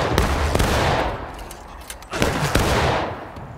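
A volley of black-powder rifle fire from Civil War reenactment infantry of the 1st NJ and V Corps in deep woods, loud and close, with several ragged cracking shots in two bursts over a rumbling outdoor background.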